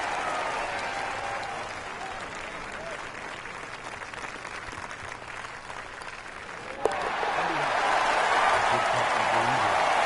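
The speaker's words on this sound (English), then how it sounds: "And the crowd goes wild." Crowd clapping for a golf putt at a PGA Tour event, a dense, steady wash of applause that swells louder and fuller in the final few seconds.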